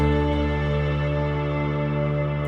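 Bit-crushed, widened vocal layer over sustained strings, a steady dense harmonic bed holding evenly throughout without pauses or talk.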